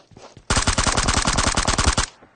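Rapid automatic gunfire from a PUBG Mobile match bursts in loud and close, a fast continuous string of shots lasting about a second and a half before cutting off.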